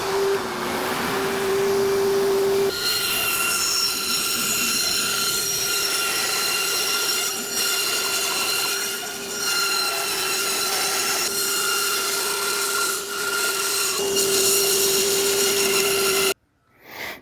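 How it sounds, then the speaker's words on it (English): A bandsaw rips through a wooden guitar neck blank while a shop vacuum runs, making a sustained high whine with tonal squeal that shifts as the cut begins, steady for many seconds before cutting off abruptly, close and loud. "I'll turn on the vacuum, I'll turn on the bandsaw, turn on my light here, and then we'll go ahead and rip this center section down to 1/4 inch over size"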